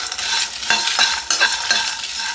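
Garlic, coriander seeds and dried Byadagi chillies roast on a low flame, with a soft, steady sizzle and several close scraping stirs of a spoon against the pan.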